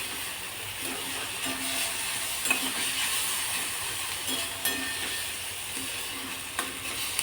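Mixed vegetables being sautéed in a pan for jowar flour dhirde, giving a steady, close sizzle with faint stirring clicks and no voices.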